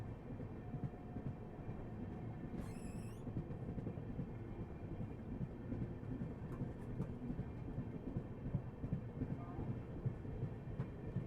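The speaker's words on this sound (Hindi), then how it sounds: "आड़ा जंक्शन के पास हमें वंदे भारत से क्रॉसिंग मिल गई है।" A Vande Bharat train passes during a crossing near Aara junction, heard as a steady low rumble and rattle from on board a moving train, with a brief horn partway through.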